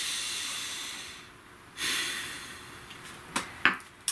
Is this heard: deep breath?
yes